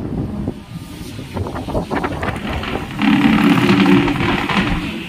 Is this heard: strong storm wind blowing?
yes